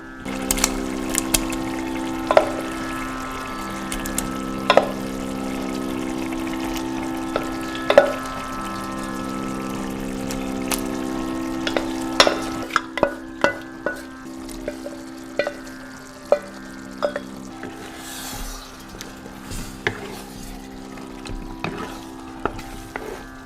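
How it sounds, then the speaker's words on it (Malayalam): Eggplant stirred into a boiling gravy for kathirikka thokku, with steady bubbling and sizzling under a string of light clicks and scrapes from a spoon against the pan, close and continuous, no voices. "ഒന്ന് തിളച്ചോട്ടെ എന്നിട്ട് നമുക്ക് കത്തിരിക്ക ചേർക്കാം അപ്പം നമ്മുടെ ഗ്രേവി നല്ലപോലെ തിളച്ച് സെറ്റായിട്ടുണ്ട് ഇനി നമുക്ക് വഴുതനങ്ങ ചേർക്കാം"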